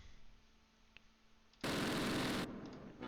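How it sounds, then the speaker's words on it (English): A short, loud burst of machine gun fire in the Close Combat World War II strategy game, a dense crackle lasting under a second before fading back to a quiet background. "I hear machine guns right here."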